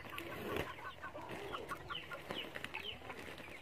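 Chickens being fed on a Filipino backyard farm cluck in short, scattered bursts, close and fairly soft, with several birds overlapping and no talk.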